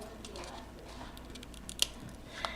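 Scissors trim fishing line for a paper craft card, giving a couple of faint, crisp snips against quiet room noise.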